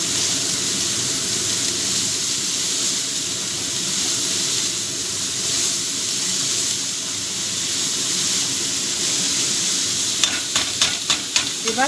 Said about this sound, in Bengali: এবার ফ্লেমটাকে একটু কমিয়ে দিয়ে ঢাকা দিয়ে এটাকে ভেজে নেব